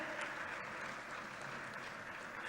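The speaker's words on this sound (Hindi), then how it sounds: "तालियों की आवाज गूंजती रहे।" An audience at an official event in Raipur with India's Home Minister Amit Shah applauds in a steady, even wash of clapping heard from a distance, quiet and sustained.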